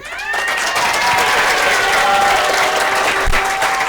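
Audience applause for the director of studies at a school event in Sotiba, steady dense clapping that fills the whole stretch at an even loudness.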